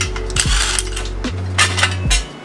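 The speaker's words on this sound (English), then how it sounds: "we gotta remove the axle nut so we can get the axle out of the hub" A ratchet works on a car axle nut during a CV boot replacement: a low mechanical hum with a few sharp metallic clicks and a brief clatter, close and fairly loud, with no talking.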